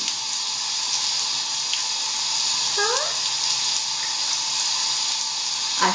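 A running shower gives a dense, steady hiss of spraying water, close and loud throughout, with a brief rising squeak partway through.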